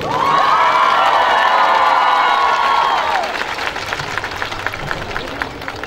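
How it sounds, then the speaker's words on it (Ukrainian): At an outdoor Children's Day event after a flashmob, a loud, sustained tonal wail with wavering harmonics dominates for about three seconds, then gives way to scattered clapping and crowd cheering from the audience. "Ваші оплески!"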